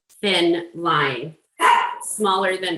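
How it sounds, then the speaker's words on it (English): Dog barking four times in loud, close, evenly spaced yelps, with a person speaking in the same room. "sorry, that's my dog"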